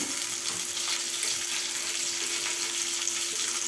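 Okra frying in oil for puli kulambu, a steady close sizzle and crackle holding evenly throughout with a faint hum underneath and no talking.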